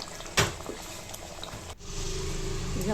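Matar paneer masala gravy bubbling as it cooks in a pan, with soft wet popping and a steady simmer that swells louder in the second half, broken by one sharp knock near the start.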